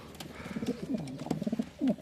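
Domestic pigeons, including Adana pigeons, coo in a series of soft, throaty, rolling calls close by, several overlapping phrases with brief pauses between them.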